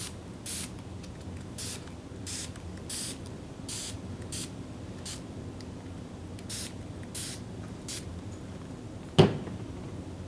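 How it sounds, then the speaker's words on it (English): Repeated short bursts of a spray bottle misting watercolor paper during a floral painting session, about a dozen quick hisses in a loose rhythm, close and clear, followed by a brief sharp knock near the end. "Spray it a little."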